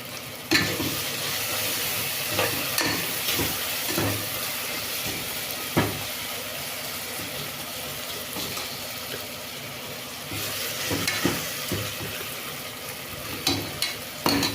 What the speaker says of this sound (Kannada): ಅದು ಸಾಫ್ಟ್ ಆಗೋವರೆಗೂ ಫ್ರೈ ಮಾಡ್ತೀನಿ.